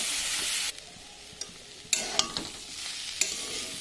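Boiled tarka lentils are stir-fried in a pan with salt and turmeric, bursts of sizzling hiss broken by stirring scrapes and sharp spatula taps against the pan, close and uneven in rhythm.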